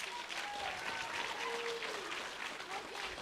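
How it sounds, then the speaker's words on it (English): A crowd applauds young girl contestants on stage at a Cherokee little ambassador competition, steady dense clapping with voices and cheers rising over it. "Can we give them all a round of applause?"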